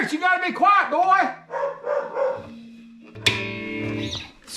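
A pet dog barks in a home, with a few excited yaps and barks mixed in with someone talking and distorted electric guitar tones from a semi-hollow thinline Tele through an amp.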